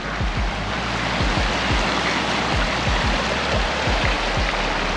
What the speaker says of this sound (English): Look how much this river's risen.